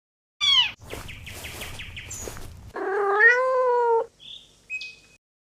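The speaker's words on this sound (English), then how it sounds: "C for cat." A cat meows several times, a long drawn-out yowl followed by a shorter cry, with brief chirpy sounds between and after, close and fairly loud.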